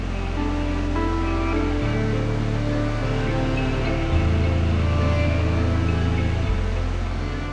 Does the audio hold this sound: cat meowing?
no